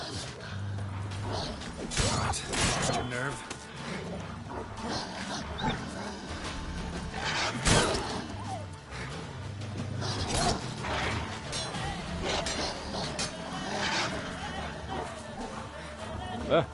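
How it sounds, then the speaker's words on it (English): Wolves in The Witcher 3 game growl and snarl during an attack, mixed with combat clatter and game sounds throughout, while someone talks over the action. "It's a wolf!"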